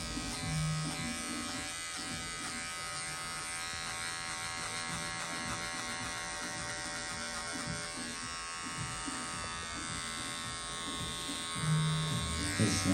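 Electric hair clippers with a 4.5 mm guard and the lever fully closed cut hair during a tapered fade haircut, giving a steady, close buzz that stays even for the whole stretch without talk.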